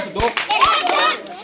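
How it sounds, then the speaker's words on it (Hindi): Children clap their hands in time during a group physical exercise session at a school, with a few sharp claps rising among chanting kids' voices close by. "जोर से ताली मारो"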